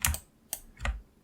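A computer keyboard being typed on, a few distinct, close, fairly loud key presses spaced unevenly, with no one talking.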